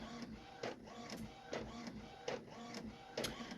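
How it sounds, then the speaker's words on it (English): An office printer printing out a single slide, a steady mechanical whir with regular soft clunks of the paper feed roughly every second, close but quiet. "we got it printing out here"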